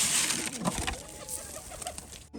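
Pigeons being fed coo softly nearby, with a low throaty murmur amid faint shuffling and light wing movement, over a quiet background hiss.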